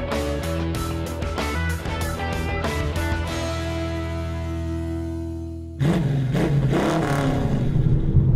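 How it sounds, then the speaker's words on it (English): The big engine of a Bentley Flying Spur revs up loudly after a tonal opening, with a sudden burst of rising, close-up engine roar. "One big car, one big engine, the Bentley Flying Spur."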